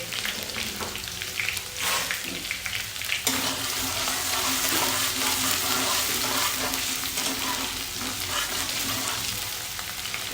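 Ginger stir-frying over a high flame for Indian-style veg hakka noodles, a loud continuous sizzle with scraping and tossing sounds, swelling after the first few seconds and staying steady, no voices.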